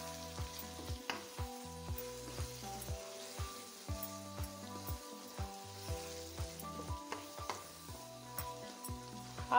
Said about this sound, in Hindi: अब इसमें मैं कीमा मटर आलू में डाल दूँगी। और अब इसकी मैं बुनाई कर लूँगी